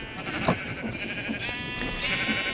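Sheep bleating on a modded Minecraft-style wool farm where machines shear them, a few short bleats scattered over a steady mechanical hum, fairly close.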